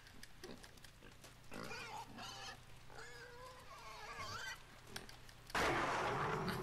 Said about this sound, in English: That pig scared the hell out of me.